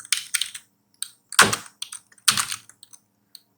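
Keys on a computer keyboard are tapped close-up in uneven bursts of a few strokes, with some louder presses and short pauses, in an otherwise quiet room.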